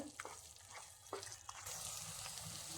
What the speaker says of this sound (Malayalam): കുറച്ച് സമയം കൂടി ഒന്ന് ഇളക്കി കൊടുത്താൽ മതിയാകും.